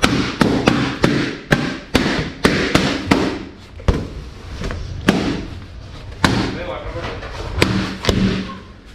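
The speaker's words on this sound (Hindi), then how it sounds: "आज फिर से मौका मिला है बलून फोड़ने का" A series of balloons popped one after another, sharp loud bangs spaced irregularly, sometimes close together, over a background of indistinct room noise.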